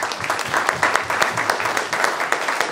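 A crowd at a real estate group event applauds steadily, dense overlapping claps filling the room at close range without a break, with scattered voices mixed in.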